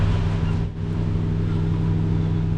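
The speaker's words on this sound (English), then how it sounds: "the car's running at the moment" Toyota Landcruiser engine idling close by, a steady low humming drone with a strong even tone and a brief dip near the start, no talking over it.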